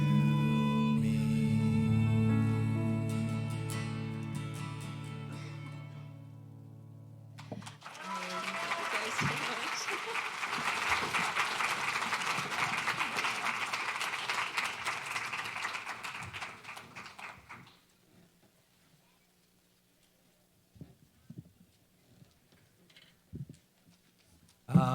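A church congregation at an Easter Sunday service breaks into warm, sustained applause for about ten seconds after a final musical chord fades, then quiets, leaving a few scattered claps.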